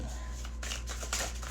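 A deck of cards is shuffled backwards by hand, giving a run of quick, crisp riffling and flicking bursts close to the listener, with a quiet hum beneath.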